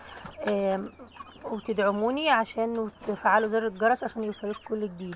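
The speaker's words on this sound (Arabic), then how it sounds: "بصوا ده الفراخ اللي عندي اللي بتبيض" Domestic laying hens clucking in a backyard flock, with repeated close, rhythmic bursts of throaty clucks and short rising squawks while someone talks over them.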